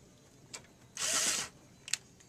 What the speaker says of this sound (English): We're going to remove the four screws from the fuser.